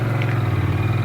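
A Ducati Monster motorcycle engine thrums with a steady, slightly muffled low pulsing at low speed, a brief continuous rumble heard up close.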